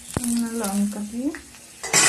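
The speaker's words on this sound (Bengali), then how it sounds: "বেগুনটা নাড়াচাড়া করে নেবো একটু।" Eggplant frying in a pan with chili, stirred with a utensil: scraping strokes and clinks over a continuous hot sizzle, close and fairly loud, with a brief burst of louder sizzling at the end.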